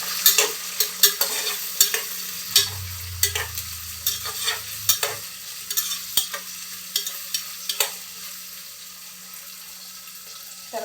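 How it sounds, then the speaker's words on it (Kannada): Beans and carrots frying in a pan while being stirred, with repeated scraping and tapping strokes of a spoon in a loose rhythm over a continuous sizzle, close up and without speech. "ತರಕಾರಿ ಒಂದು ಐದು ನಿಮಿಷ ಫ್ರೈ ಆಗಿ"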